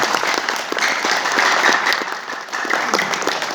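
A crowd gathered at a DXN company picnic breaks into lively applause, a close and continuous patter of many clapping hands.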